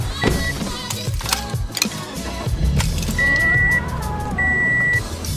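A car reverses with a tonal reversing beep repeating at steady intervals over busy ambient noise and clatter; no one speaks.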